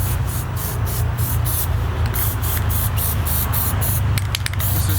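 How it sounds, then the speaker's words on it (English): A Plasti Dip aerosol can sprays rubber coating onto car wheel rims in a steady, loud hiss, with brief pulses and a crackly edge as the nozzle is worked, continuing without a break. "Remember to shake the can in between sprays."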